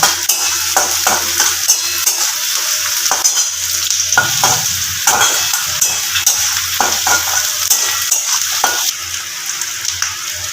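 Chopped onions fry in a pan under a steady, loud sizzle, with repeated scraping and clinking strokes of a spatula stirring them, close up and with no voices.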